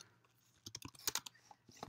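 Keys on a computer keyboard are typed in a short burst of close, fairly soft clicks, bunched near the middle and trailing off, with no talk.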